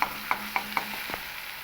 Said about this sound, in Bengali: এবার এর মধ্যে দিয়ে দেবো একটা বড় সাইজের টমেটোর টুকরো